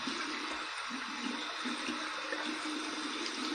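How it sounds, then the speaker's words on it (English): Warm water runs steadily from a tap over a silvertip badger shaving brush, a continuous hissing splash with no talking. "I'm just going to just run under some water, just gently squeeze the excess water and lather out of the knot using warm water"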